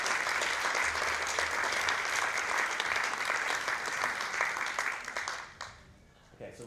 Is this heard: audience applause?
yes